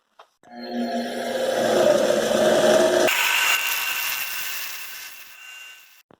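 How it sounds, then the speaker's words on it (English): A bench grinder shapes a small steel key for a camshaft notch, a loud steady grinding whine that shifts to a higher, harsher scrape midway, then tapers off, with no talking. "It takes a lot of trips to the grinder."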